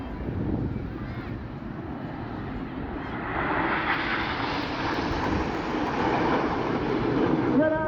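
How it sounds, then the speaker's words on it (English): Folland Gnat jet flying a display at the Eastbourne Air Show, a steady broadband roar that swells louder in the second half as the aircraft passes, continuous throughout. "From the right, Enid flying the Gnat"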